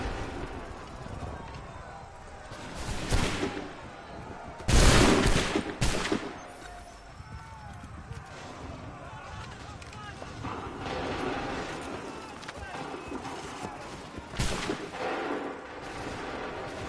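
Musket volleys crack out in a battle in Assassin's Creed 3 Remastered on PS5, with loud bursts near 3, 5 and 14.5 seconds over a steady din of combat and shouting voices.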